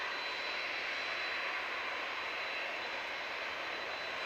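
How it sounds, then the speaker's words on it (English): A Boeing 777 airliner at Manchester Airport produces a constant, smooth engine roar, fairly faint and distant, holding level without speech. "Stunning 777 coming up."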